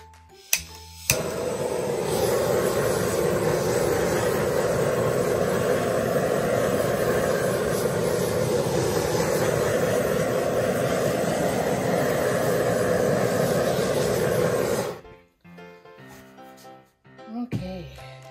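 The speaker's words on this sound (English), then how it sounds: "Okay, torch." A handheld torch flame roars steadily and loudly for about fourteen seconds as it is passed over a split cup ring acrylic pour painting, then cuts off abruptly.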